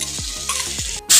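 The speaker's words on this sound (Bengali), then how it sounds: "অনেকটাই কষে গেছে ভালো করে কষিয়ে নিচ্ছি" Taro curry with tomato, cumin powder and soaked peanuts sautés in a pan, giving a close, steady sizzle with a couple of quick scraping stirs and a louder hiss at the end.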